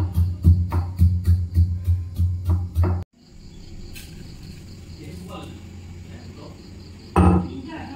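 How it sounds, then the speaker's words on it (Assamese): Roasted spices for a tangy chili pickle pounded by hand in a home kitchen mortar and pestle: about three seconds of quick, steady, heavy thuds close by, then the pounding stops and only faint background noise remains, with a brief bump near the end. "গ্ৰাইণ্ডাৰত নিদিও, মই খুন্দনাতে খুন্দিম"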